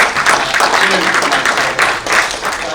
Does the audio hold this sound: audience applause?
yes